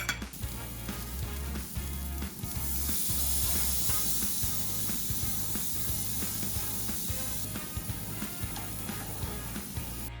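Carne asada steak sizzles on an outdoor grill, a steady hiss of searing meat over a low background hum, with occasional clicks and scrapes; no voices.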